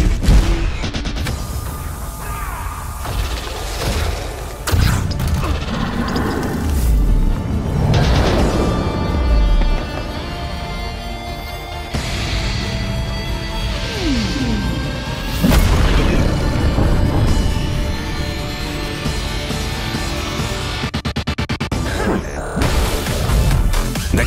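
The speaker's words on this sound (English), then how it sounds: "By focusing gravity, the kinetic creates a powerful and devastating ether explosion." A devastating ether explosion from a kinetic-class gravity attack in the Skyforge video game trailer: dense, loud booms and crashing impacts layered over a continuous cinematic score, with repeated heavy hits throughout.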